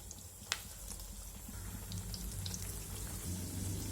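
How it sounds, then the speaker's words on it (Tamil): Banana flower vadai deep fry in hot oil, giving a soft, steady bubbling sizzle with a single sharp crackle near the start, close up and fairly quiet with no talk. "எண்ணெயில் போட்டு வறுத்து எடுத்துக்கலாம்"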